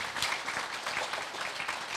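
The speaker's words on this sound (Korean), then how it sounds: "우리 참 부모님께 영광의 박수 한번 올리겠습니다" Brief audience applause at a church praise concert, a dense patter of clapping hands held steady for a couple of seconds at moderate volume.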